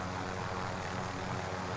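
Helicopter engine in a video game, a steady low droning rumble with dense broadband noise that holds constant and loud throughout, with no talk over it.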